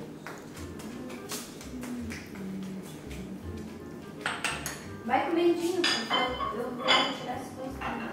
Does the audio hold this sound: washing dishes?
yes